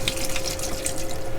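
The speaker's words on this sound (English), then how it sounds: "I'm gonna pour a bunch into the gray tank here." Liquid pours steadily into a travel trailer's drain P-traps during winterizing, a continuous close splashing and trickling with no talk over it.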